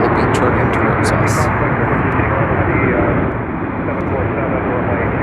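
A Boeing 747 lands at Chicago O'Hare, a loud broad engine roar that eases slightly partway through, with voices talking over it.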